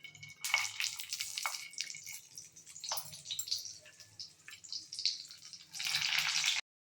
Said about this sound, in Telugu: ఇదిగోండి నూనె కాగింది కదా! ఇప్పుడు మనం స్టఫ్ చేసిన మిర్చి వేసేసుకుందాము.